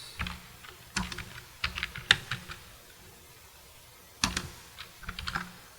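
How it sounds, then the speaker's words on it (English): Fingers type on a computer keyboard in irregular bursts of crisp, close key clicks, with short pauses between clusters of strokes and no talking. "Here you have to type the question. I am typing the question."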